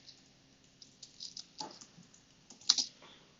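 Typing on a computer keyboard while filling in a resource page, a few close, crisp keystrokes in uneven runs with sharper clicks near the end and no talking.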